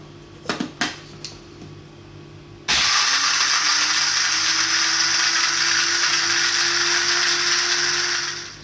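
An electric spice grinder whirs loudly and steadily, grinding roasted whole spices with turmeric into curry powder, after a few brief clicks and knocks as it is loaded and closed.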